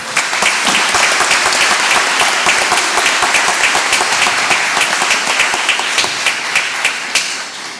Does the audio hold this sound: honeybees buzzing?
no